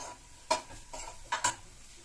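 Small onions sautéed in a pan for a fish gravy, a faint soft sizzle broken by a few quick clinks and scrapes of the spoon, close and quiet with no talk.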